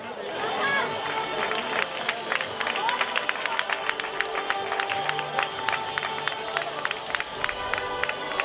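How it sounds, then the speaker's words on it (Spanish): An audience at a triathlon award ceremony claps steadily with scattered cheers. The applause comes through an outdoor crowd murmur and a speaker on a public address system. "¡Fuerte aplauso!"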